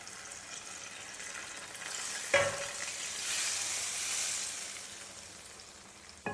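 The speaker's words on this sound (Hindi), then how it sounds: "ये जाएगा जी हमारा इस पर तड़का।" Hot desi ghee tadka poured onto moong masoor daal, a sharp clatter then a loud spreading sizzle that swells and gradually settles, close and alone.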